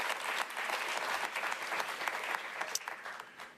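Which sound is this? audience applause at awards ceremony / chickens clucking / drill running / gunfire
audience applause at awards ceremony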